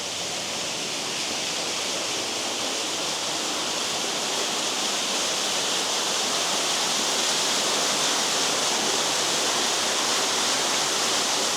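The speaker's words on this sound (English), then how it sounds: "you will see in a minute underground waterfall." A natural underground waterfall, eight meters high inside an old hand-cut gold mine corridor, roars as a dense, steady hiss of falling water that swells slightly louder and continues without pause, with no voices over it.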